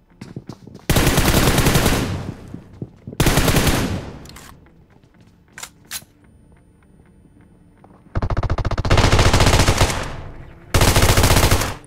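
Automatic gun bursts in a battle royale game, four long sustained volleys of loud rapid fire separated by quieter gaps holding a few single shots and small clicks.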